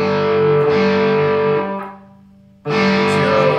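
A loud, distorted electric guitar playing a riff rings out, fades briefly, then a second heavy chord strikes abruptly, with no talking.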